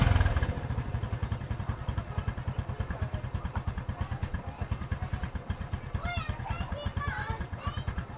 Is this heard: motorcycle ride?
yes